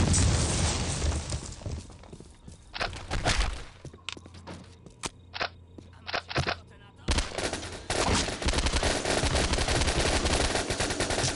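Video game weapons fire in Postal 2, with rapid automatic bursts and single loud shots, some of them explosive, broken up by short gaps and echoing impacts. Someone talks in between.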